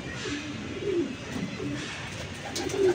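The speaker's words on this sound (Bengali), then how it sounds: "2021-এর কবুতর এটা ছিল।" Soft, repeated cooing from a male racing pigeon hatched in 2021, heard close by in a few low throaty phrases against quiet background noise.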